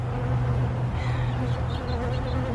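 Many honeybees hover around a hive in the rain, their droning hum loud and continuous near at hand.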